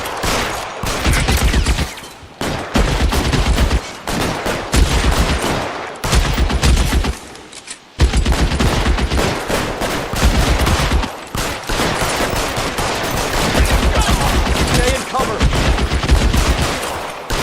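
Sustained bursts of game gunfire in L.A. Noire, dense rapid volleys broken by short pauses, loud and close across the whole stretch, with a voice faintly heard beneath the shooting.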